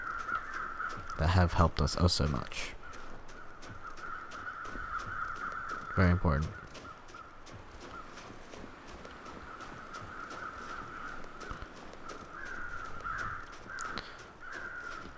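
Crows caw in the snowy wilderness of The Long Dark, two loud bursts of rapid harsh calls near the start and middle over a steady droning ambience, while someone talks quietly over the scene.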